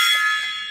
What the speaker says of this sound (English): The baby gong. Good baby gong.